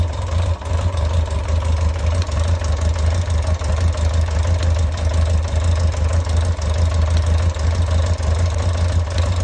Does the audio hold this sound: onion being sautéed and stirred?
no